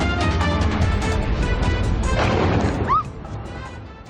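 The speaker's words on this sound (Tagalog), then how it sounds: "Malakas sa pagsabog ang yumanig sa bahaging ito ng lungsod" A drone strike explosion at night in a parking lot near the US consulate in Dubai: a loud, close, rumbling blast roars for about three seconds, then cuts down to a fainter lingering echo.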